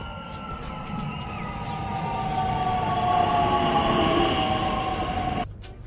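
Steady rumbling and rattling of a train in motion in Germany, heard from inside an empty carriage with a faint whine, ending in a sudden drop.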